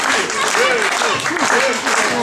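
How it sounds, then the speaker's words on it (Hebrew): An audience claps in a crowd at a parrot show featuring a cockatoo, a broad, continuous patter of applause with a voice talking over it. "קצת עידוד של הקהל יחזיר את ג'קי למקום שלו"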